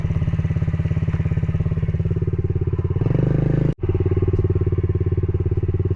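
Loud, close pit bike engine at a steady, rapid putter, revving up briefly near the middle before a sudden drop and a return to the same idle-like chug, with no speech.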